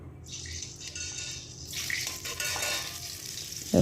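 Spices frying in oil for a village-style vegetarian taro leaf dish, a loud, continuous hiss and sizzle with stirring scrapes, close and without talk.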